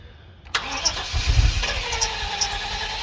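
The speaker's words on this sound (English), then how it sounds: "It's cranking the motor over just fine." A car engine turns over on an Awanfi jump starter, with a sharp cranking onset and a steady, strong rumble as the motor spins and catches, close and loud.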